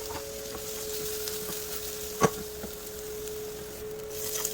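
Onions and garlic fry in a pan with a soft, continuous sizzle, close and fairly quiet, broken by a single sharp utensil clack against the pan midway and a few faint stirring taps.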